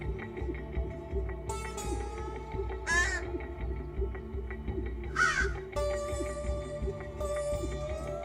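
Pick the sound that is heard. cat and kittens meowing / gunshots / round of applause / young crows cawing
young crows cawing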